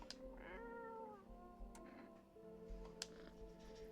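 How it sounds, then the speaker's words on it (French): A cat in a video game meows several times in short, distinct cries spread over a few seconds, fairly close and clear against a quiet background, with no talk. "Tendez la main et caressez le chat."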